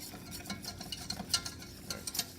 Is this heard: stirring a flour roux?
yes